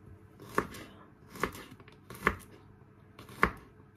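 Four sharp, evenly spaced knife chops on a cutting board while preparing chicken pancit canton, close and clear with no talk.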